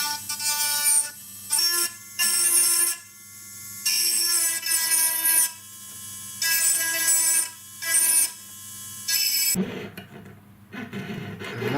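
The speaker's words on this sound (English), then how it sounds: "This burr is called a bud burr, and this will just give these sides a nicer shape" A bud burr grinds and shapes the sides of stone-set huggie earrings, a steady high whirring rasp in repeated bursts of a second or two separated by short pauses, close and fairly loud.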